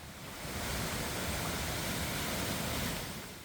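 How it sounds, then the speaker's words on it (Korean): Steady, loud rushing of a rain-swollen valley stream near a waterfall, a dense broadband roar, continuous throughout with no voices. "때마침 어제 비가 와서인지 물소리가 정말 크더라고요."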